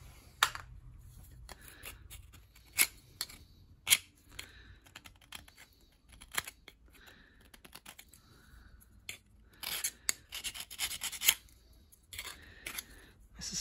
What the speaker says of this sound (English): Let's give the other one a bit of a clean.